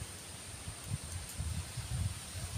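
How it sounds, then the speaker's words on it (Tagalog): Low, gusty wind rumbles and buffets steadily throughout a rice field, with soft rustling over a constant hiss; no one speaks. "lakas po ng hangin, ang sarap po ng hangin dito"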